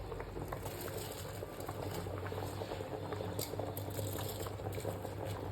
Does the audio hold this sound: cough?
no